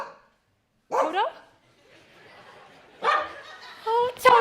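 Dog Toto barking on stage during a Wizard of Oz play, a few short yips and barks spaced apart, fairly close, with a voice sounding around them.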